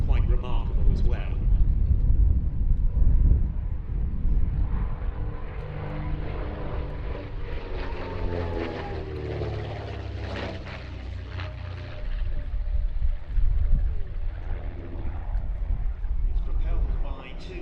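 A de Havilland DH.88 Comet with twin Gypsy 6R engines flies in formation with a P-51D Mustang at an air show, propeller drone rising and falling as they pass at a distance, with a commentator talking steadily over it.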